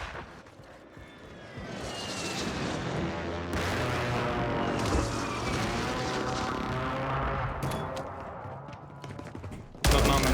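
Gunfire from a nearby fight in the video game Warzone 3, sustained rattling bursts mixed with an aircraft-like engine roar, moderately distant, with a sharp loud burst at the very end and occasional voices.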